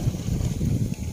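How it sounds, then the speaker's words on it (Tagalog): Strong wind buffeting the microphone outdoors beside a river, a low, uneven rumble of gusts that stays loud throughout. "Sobrang hangin po mga idol."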